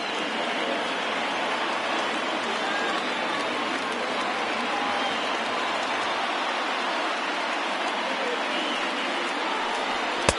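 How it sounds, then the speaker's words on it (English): A small crowd at a baseball video game cheers and roars as it rises to its feet, a dense, steady wash of crowd noise running throughout at fairly loud level. "Now this small but vocal crowd come to their feet."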